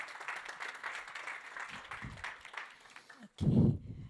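Audience applause at a high-level conference on fundamental rights, a fairly quiet, spread-out patter of clapping that fades, followed by a brief louder thump near the end.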